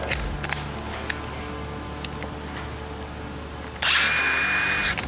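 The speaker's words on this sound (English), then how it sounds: "How about a right angle drill?" A short, loud burst of an SP Tools ConX Hybrid cordless right angle drill whirring near the end, preceded by quiet handling noises and faint clicks.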